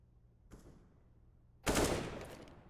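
A Counter-Strike gunshot headshot during a competitive match: a faint click, then one loud, sharp broadband crack that decays over about a second.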